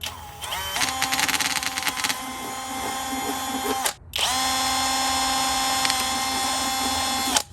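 A power drill whirs steadily at close range, running in one long burst, stopping briefly, then starting again and holding a constant high whine.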